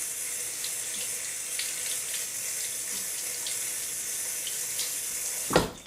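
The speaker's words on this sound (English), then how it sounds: "So I'm going to rinse this under water real quick." Salted cabbage for kimchi is rinsed under a running kitchen tap, giving a steady, close hiss of flowing water that ends with a brief louder splash.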